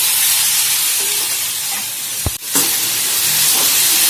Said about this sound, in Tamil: இப்போ இந்த சுண்டலை இதில் போட்டுருவோம்.